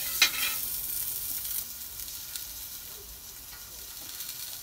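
Ginger and onions frying in a pot for bulalo soup, a soft continuous sizzle with a brief louder stirring clatter at the start, fairly faint and close.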